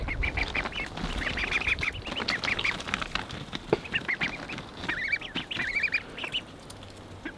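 Several ducks quack and honk in irregular bursts inside a coop with heat lamps, some calls close and others farther off, with scattered clatter and rustling between them.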